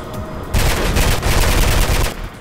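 Loud bursts of automatic gunfire in Mirror's Edge, a brief lull then two sustained machine-gun volleys close up, ending abruptly with no talking.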